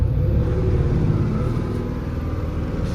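Heavily loaded truck engine labouring steadily uphill in a low gear on a steep slope in heavy rain, a continuous loud rumbling drone close by with no voices.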